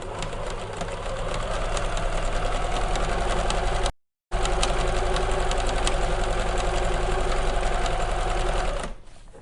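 A sewing machine runs steadily, stitching two lines on fabric for a potli bag, with a brief pause midway before the continuous whirring resumes and then stops near the end.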